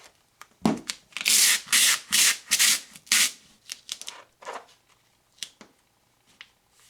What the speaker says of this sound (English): I'm only going to burnish with my fingers